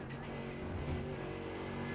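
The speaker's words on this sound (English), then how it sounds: "There's a faster car approaching. And we have an LMP coming." Race cars in iRacing approaching on track, a steady engine drone with a faster prototype car closing in, constant and moderately loud with no talk.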